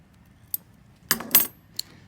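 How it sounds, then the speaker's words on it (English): Sharp scissors snip the corners of a fabric apron, a few quick close clicks and crisp cuts with near silence between them. "take your scissors and clip your corners"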